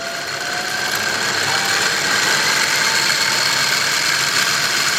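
Machine spindle turning at 1,000 RPM while machining a chunk of aluminum with cutting fluid, a steady loud whine and hum holding constant throughout with no speech.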